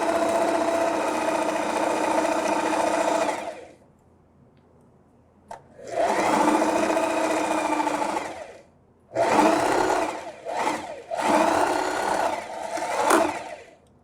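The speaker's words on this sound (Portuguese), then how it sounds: "A máquina que vai puxar o tecido, ó." Domestic sewing machine stitching a cotton dish towel, running in several steady buzzing bursts separated by short pauses, close and clear with no talking.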